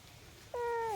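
A stray cat lets out a single loud, drawn-out meow about halfway through, following a quiet stretch of low background hum.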